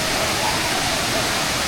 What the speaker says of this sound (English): So these are the main falls that everyone has come here to see.